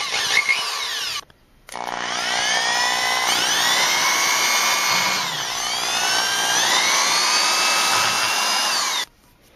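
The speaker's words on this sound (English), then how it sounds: "Next up, we're going to try drilling." A power drill whines loudly and steadily while drilling into CDs, its pitch rising and falling as it bites into the plastic, with a brief pause early on.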